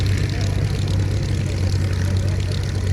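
A MiG-17F jet fighter at the Ragley Hall airshow, heard as a continuous, loud, low engine roar that stays steady without any break.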